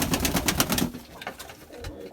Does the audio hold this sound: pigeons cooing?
yes